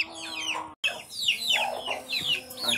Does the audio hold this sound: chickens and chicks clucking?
yes